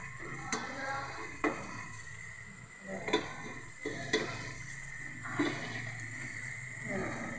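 Masala of ground tomatoes frying in a pan for aloo chicken salan, a soft steady sizzle under faint background voices, broken by a few sharp clinks of a spoon against the pan.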